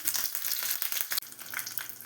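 Steady, crackling sizzle of mustard seeds and curry leaves hitting two spoons of hot oil, bright and continuous with scattered pops, close up and without any voices.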